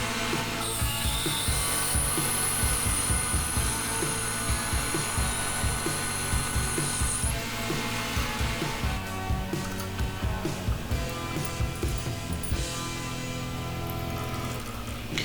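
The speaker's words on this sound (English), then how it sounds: "Go ahead and drill the hole out." Steady mechanical whirring of a drill boring a hole in metal with cutting fluid, continuous and fairly loud, with a high whine early on and irregular clattering underneath.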